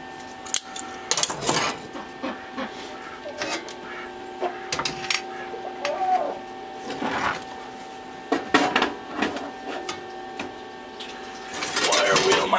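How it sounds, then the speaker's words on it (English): A wire wheel cleans old tacks pulled from a vintage desk, giving uneven bursts of whirring and scratchy grinding between quieter gaps, with a steady hum of the running machine underneath and some light clinking. "Wire wheel my tacks clean for a second."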